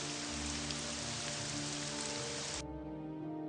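Rain falls in the Morrowind video game as a steady, dense hiss that cuts off abruptly near the end, leaving only a quiet low hum.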